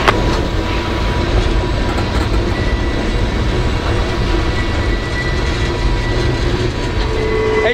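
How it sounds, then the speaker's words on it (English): A heavy freight train grinds steadily uphill through snow, a loud continuous rumble with rolling wheel clatter that holds without pause across the whole stretch, nearby and with no voices. "As you can see, the train's picking up speed now."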